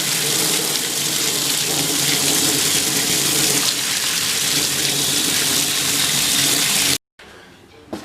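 Water runs steadily from a tap in a basement bathroom to flush air bubbles from the line, a loud continuous gushing hiss that stops abruptly near the end, leaving faint room tone.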